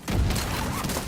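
A burst of rapid gunfire in a video game as the player shoots their own decoy, a dense cluster of close, loud shots with deep thuds at the start, no talk.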